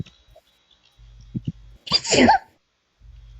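A single loud, sharp sneeze bursts out near the microphone, preceded by a couple of soft clicks and a low background hum.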